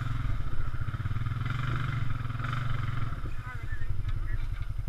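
Honda Rancher 420 ATV engine revving and straining while towing out a stuck Arctic Cat 550i Cruiser, a loud steady throaty drone with rising pulls, close by.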